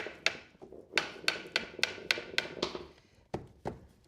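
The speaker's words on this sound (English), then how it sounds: "He's going to tap it in with a hammer." A hammer taps a new wood floorboard into place during an old-house floor repair, giving about a dozen sharp, close knocks in an uneven rhythm, with no talk.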